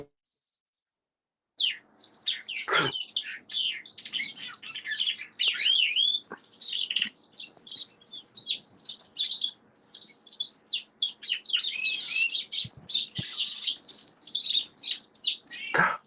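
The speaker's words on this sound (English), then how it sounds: "My birds had babies, and when she comes back, I'll tell her about it." Pet birds that have just had babies chirp and tweet in a busy, continuous stream of high calls, starting after a short silence and staying fairly close and lively throughout.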